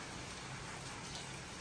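Steady rain falls outdoors in the morning, a soft, even wash of hiss at low level with no break across the short stretch and no voices.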